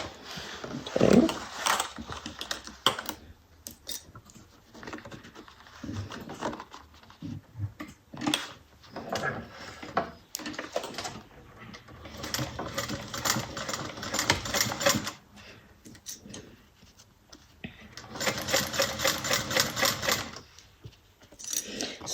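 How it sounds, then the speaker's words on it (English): Sewing machine stitching fabric at a quarter-inch seam, running in rapid mechanical bursts of chattering needle strokes separated by brief stops and handling noises, close by. "we're going to sew at 1/4 inch."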